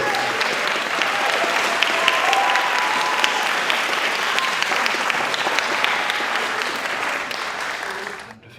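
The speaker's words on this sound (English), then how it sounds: "round of applause for Mason" Sustained applause from a concert audience at a high school percussion ensemble performance, many hands clapping evenly for several seconds before fading out at the end.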